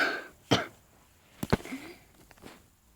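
A few sharp coughs, close and hoarse, separated by short pauses and a throat-clearing rasp.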